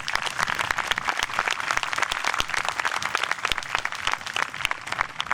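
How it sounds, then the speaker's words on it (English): A crowd at an outdoor peaceful protest claps for the township police department, sharp, distinct hand claps crowding together in a lively, uneven patter that stays loud throughout. "You can give them a clap."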